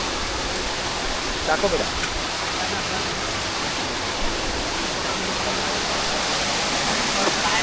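A jungle stream flows nearby with a steady, broad rushing wash of water that never lets up, while a voice speaks briefly over it near the start.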